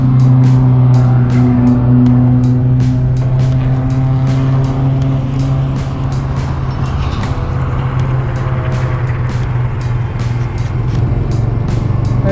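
A small motorbike rides along and leans through a turn, its engine a loud, steady buzzing hum with a shifting pitch and rapid ticking clatter layered on top.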